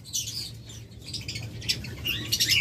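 Violet opaline lovebirds in a cage give off a scatter of high, scratchy chirps and squawks at moderate volume over a low steady background hum.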